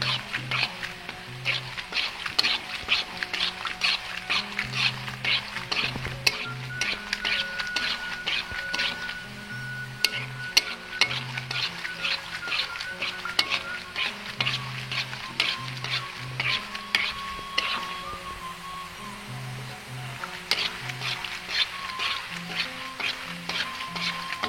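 Cimol tapioca snacks frying in hot oil give a steady close sizzle with bursts of crackling and stirring scrapes, under intermittent talk.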